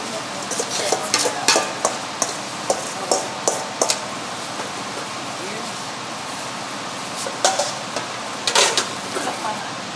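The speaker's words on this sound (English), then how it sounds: "now we're adding all these wonderful onions" Onions going into a pan for homemade salsa, with clinking utensil and stirring scrapes arriving in scattered bursts over a low steady sizzle, close and moderately loud.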